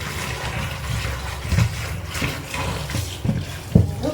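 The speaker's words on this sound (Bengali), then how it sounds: "ভালো করে সুন্দর করে ধুয়ে নেব, কেননা মাগুর মাছে অনেক বীজল থাকে।" Magur catfish are rinsed under running tap water, a continuous splashing flow with occasional knocks and sloshes as the fish are handled, fairly close and loud.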